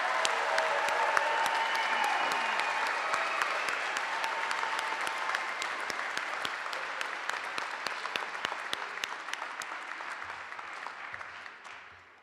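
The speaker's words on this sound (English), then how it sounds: "please join me in one more round of applause for our undergraduate degree recipients" A winter convocation audience gives a long round of applause for undergraduate degree recipients, steady dense clapping from a large crowd that slowly thins and fades toward the end.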